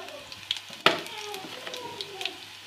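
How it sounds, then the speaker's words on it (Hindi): Cumin seeds drop into hot oil for a tadka tempering, giving a soft crackling sizzle with scattered pops and one sharp clatter near the start, fairly close and quiet. "और जीरा डालते हैं यहाँ पर थोड़ा सा,"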